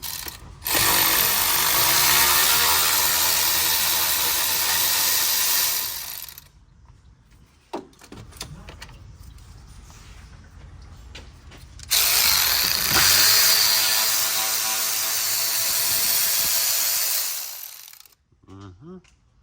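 Power tool running on the fan shroud bolts of a Ford 3.0 engine, with two long loud whirring bursts separated by quieter clicks and handling noises, then a brief tail.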